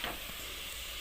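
Mushroom masala with softened tomato is stirred in a frying pan, giving a soft, steady sizzle with a faint scrape of stirring near the start, quiet and close for about a second.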